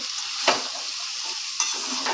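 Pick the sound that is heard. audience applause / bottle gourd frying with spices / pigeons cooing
bottle gourd frying with spices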